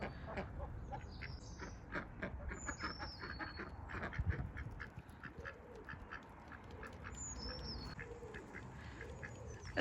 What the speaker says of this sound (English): In this area we have so many ducks, guys.